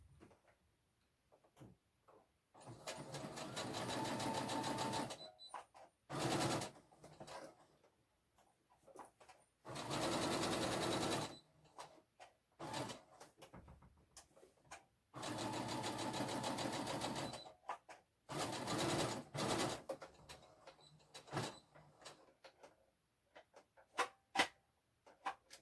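A sewing machine stitches fabric for a vintage-style apron, running in several loud bursts of rapid whirring needle strokes separated by quiet pauses and small handling clicks.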